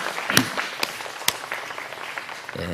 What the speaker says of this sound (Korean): 우리 교사들과 우리 목사님을 향해서 우리 감사하는 마음을 가지고 박수 한번 해드리겠습니다